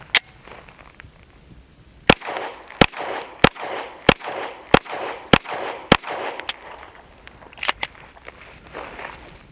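A PSA Dagger pistol fires about a dozen sharp, loud shots at a target outdoors, each followed by a short echo. The shots come at a steady rhythm, roughly one every half second.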